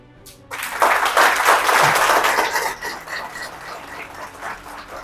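A crowd at a direct selling business meeting breaks into loud, dense applause that peaks early, stays steady for a couple of seconds, then tapers off to lighter, scattered clapping.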